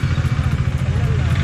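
A motorcycle engine in supermoto mode runs steadily and close by, with a low continuous rumble throughout, during an off-road Sunday group ride.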